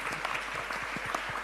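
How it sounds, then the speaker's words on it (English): Audience applause for a crypto adoption panel, a steady wash of many hands clapping, fairly loud and even throughout, with a faint voice underneath. "A big round of applause for our panelists, please."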